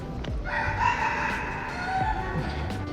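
A rooster crows outdoors near the Batu Caves in Kuala Lumpur, a drawn-out call at moderate distance over steady ambient noise, with faint clucking around it.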